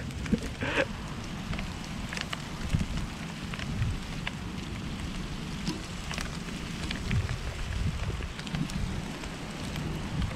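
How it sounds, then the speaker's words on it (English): Rain and hail fall outdoors beside a backyard grill, a dense steady patter broken by scattered sharp, clicking impacts that carry on throughout. "It's raining."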